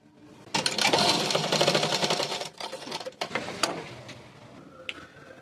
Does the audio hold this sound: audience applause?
no